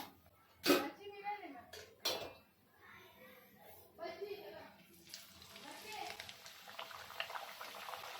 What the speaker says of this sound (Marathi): आपण पुरी सोडून घेऊया पुरी ना दोन्ही बाजूनी छान तळून घ्यायची